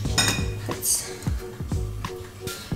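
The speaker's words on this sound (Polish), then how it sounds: "No i to musimy oczywiście wymieszać." A spoon clinks and scrapes against a bowl with a steady rhythm of light taps while yogurt, sparkling water and olive oil are mixed for a Balkan banica.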